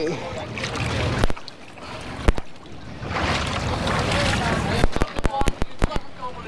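A boat moves across open water with steady wind and wash, a voice talking, and a burst of sharp knocks near the end.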